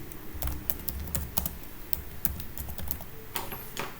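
Keys clatter on a computer keyboard as text is typed into a new file, a close, steady patter of irregular keystrokes with no voices.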